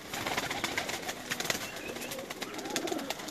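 Pigeons coo softly inside a loft, faint low murmurs repeating over a busy background of rustling and scattered clicks, with no talk.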